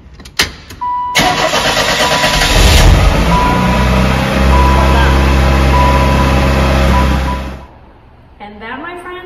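A 1988 Pontiac Fiero base model cranks over and fires up after a battery change, then settles into a loud, steady mid-pitched engine drone for several seconds before cutting off, with a voice speaking briefly at the end.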